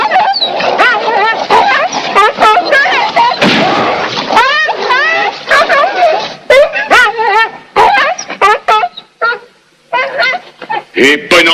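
A dog gives sharp, loud barks and high whimpering yelps in rapid bursts, close by, with voices mixed in among the cries.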